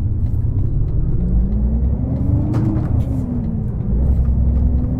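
A steady, loud Mercedes Actros MP3 truck engine in Euro Truck Simulator 2 drones with a low rumble, its pitch rising slightly and easing back down, with no talking.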